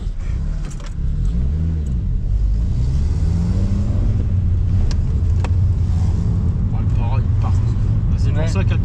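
Renault Clio being driven on a test run, its engine rumbling low and steady close by with rises as it pulls away, while people talk over it inside the car.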